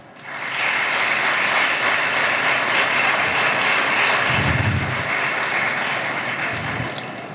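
Graduation ceremony audience giving a warm round of applause, a loud, dense, sustained roar of clapping that swells in quickly and holds steady for several seconds before easing off.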